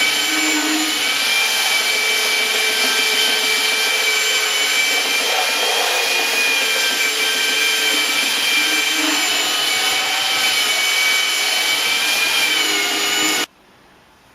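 A belt sander works a homemade cedar wakesurf board, a loud continuous close-up whirring drone that holds steady for over thirteen seconds before cutting off abruptly.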